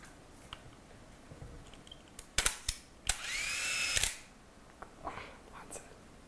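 A motorized Hasselblad ELM medium-format camera, loaded and ready, fires a few sharp clicks of its shutter and then runs a whirring motor wind of about a second before stopping, close and alone in a quiet room.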